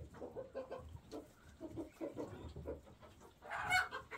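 A broody hen clucks in a steady run of low, close calls, ending in a louder, higher squawk.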